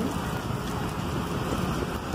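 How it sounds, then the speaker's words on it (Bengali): Heavy rain pours down in a dense, continuous wash of noise with a low rumble, steady and even throughout with no voices. "দেখুন কীরকম বৃষ্টি হচ্ছে ঝমঝমে বৃষ্টি হচ্ছে"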